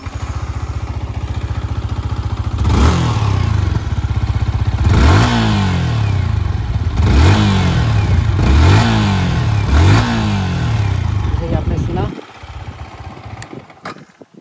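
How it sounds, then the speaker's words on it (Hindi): A 2022 Yamaha MT-15 V2.0 motorcycle idles, then its exhaust revs sharply four times in quick succession, each rev rising and falling, loud and close, before the engine cuts out. "और अभी मैं सुना दूँ आपको MT का एग्जॉस्ट नोट।"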